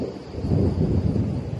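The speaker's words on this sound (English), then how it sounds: "This is the biggest thunderstorm I have ever witnessed" A thunderstorm in Belgrade rumbles low and heavy with gusting wind buffeting the microphone, a continuous dense roar with no voices.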